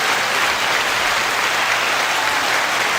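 Steady applause from a live podcast studio audience welcoming a guest, dense and sustained at an even level throughout with no talking over it.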